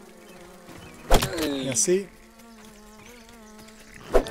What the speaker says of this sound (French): Et ça attire les mouches du coin.